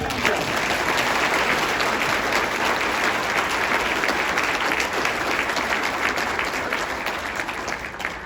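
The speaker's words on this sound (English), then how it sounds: "Huge round of applause." A large audience at a city State of the City address bursts into dense, sustained applause, loud and close, fading slightly at the end.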